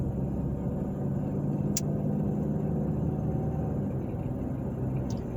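Steady low rumble of a car driving down Westfield Boulevard in Carmel, Indiana, heard from inside the vehicle as a continuous road drone with faint brief ticks.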